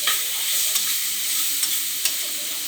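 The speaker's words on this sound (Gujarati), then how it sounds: "નૂડલ્સ જે આવે છે એનો મસાલો નાખવાનો એ નાખી સાંતળવાનું છે." Onions sautéed with Maggi noodle masala in a pan give a steady hiss of frying, broken by a few soft scrapes of stirring.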